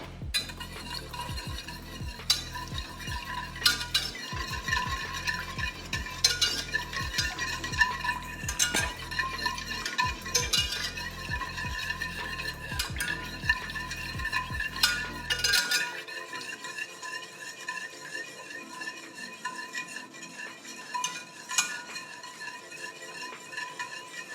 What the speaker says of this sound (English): So I'm gonna give it a stir.